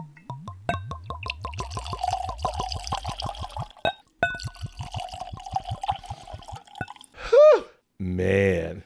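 Ardbeg scotch whisky poured into a glass, a rapid series of close glugging drips and trickles that slows and pauses, followed by a couple of brief louder bursts at the end.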